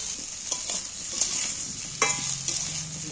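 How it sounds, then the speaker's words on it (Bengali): Potatoes frying in oil sizzle softly as they are stirred, with light scraping and clattering strokes scattered through a quiet, close-up hiss. "আর এই জন্য নাড়াচাড়া করে একটু ভালো করে ভেজে নিলে খেতে ভালো হবে"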